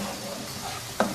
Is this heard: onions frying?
yes